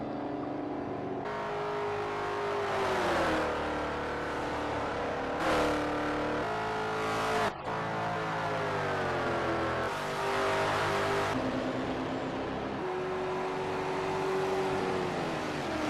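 Race cars roar around the Twin Ring oval, engines droning steadily with shifting pitch as several cars pass in sequence, loud and continuous with no talk.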